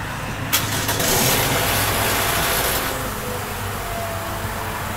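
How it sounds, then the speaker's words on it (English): A 2012 Toyota Sienna with a four-cylinder engine starts, with a short crank and catch, then settles into a steady, fairly close idle that holds to the end. "Now let's run the engine and make sure that everything looks as expected."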